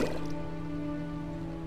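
Water dripping and trickling in the video game The Witcher, a soft steady liquid sound with a faint dripping texture over a low background hum, moderately quiet and without voices.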